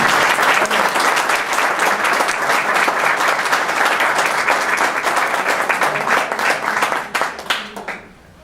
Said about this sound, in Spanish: les pediría un aplauso para nuestros consocios e invitados